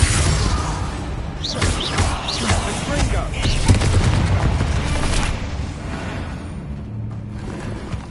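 Spell explosions from the Hogwarts Legacy video game go off as repeated booms and crashing bursts over a dense rumbling background, with a voice casting spells during the first half.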